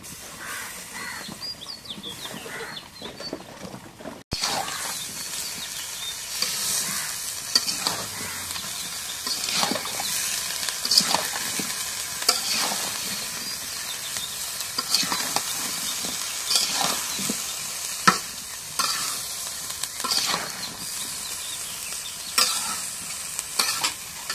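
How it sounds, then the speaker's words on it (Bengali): Curry frying in a pan while being stirred, a steady close sizzle with repeated scraping strokes that starts loudly after a quieter opening, with crows cawing faintly outside. "এখন তরকারিটা দিই"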